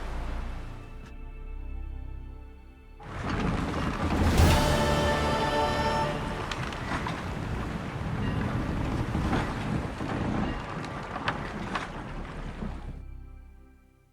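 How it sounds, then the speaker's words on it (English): Sailing ship at sea in The Witcher 3 video game, with loud rushing wind, creaking timber and surging water that start abruptly and hold steady for about ten seconds, then drop back to a quieter drone. "High time we set sail."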